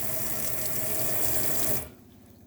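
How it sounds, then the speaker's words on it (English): Hot water taps in a 2018 Sprite Major 4SB caravan gush steadily while the water system bleeds, a loud close rush that cuts off abruptly near the end. "you're going to open all the taps up on the hot side to allow the water system to bleed"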